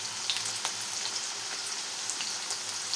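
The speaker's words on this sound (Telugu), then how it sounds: "ఇప్పుడు పోపు దినుసులు కూడా వేసేస్తున్నాను తిరగమాత గిన్నెలో" Tempering spices fry in hot oil in a small tempering pan, making a steady, close sizzle dotted with tiny crackles and pops, with no speech.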